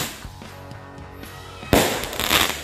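Firecrackers set off ahead of the Eid al-Adha holiday crackle in a few small pops, then burst into a loud, dense rattling volley close by.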